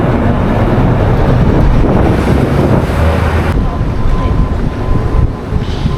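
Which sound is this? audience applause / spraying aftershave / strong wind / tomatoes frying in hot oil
strong wind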